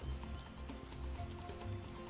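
Hooves clip-clop steadily from a horse in the ranch video game Ranch of Rivershine, with a soft continuous game ambience underneath and no talking.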